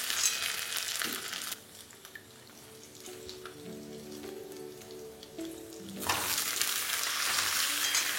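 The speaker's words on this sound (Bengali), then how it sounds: "আদা আর কাঁচা লঙ্কার সাথে এটাকে ভালো করে ভাজতে থাকুন" Brinjal and potatoes fry with ginger and green chilli in a pan, a crackling sizzle that drops to a quieter simmer of soft stirring and then swells back to a loud hiss near the end.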